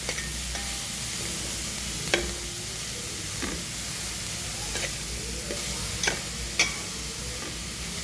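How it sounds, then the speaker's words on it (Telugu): Grated carrot for halwa is stirred in a pan with a spoon, producing a continuous soft sizzle and scraping, with occasional clicks as the spoon knocks the pan, heard up close with no talking. "కొంచెం లైట్గా ఒక టూ త్రీ మినిట్స్ తిప్పుకోవాలన్నమాట"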